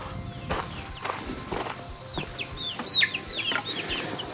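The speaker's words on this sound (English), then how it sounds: "This is our daytime daycare for the little chickens." Soft clucks and chirps from young chickens on a farm over a busy outdoor background, with scattered footsteps and higher peeping calls toward the end.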